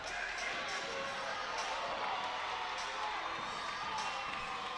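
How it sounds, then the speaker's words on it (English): Crowd noise at a high school volleyball game in the Allen High School gym, with students cheering, shouting and whooping in a loud, steady roar alongside occasional sharp court sounds. "Great crowd on hand tonight here at Allen High School."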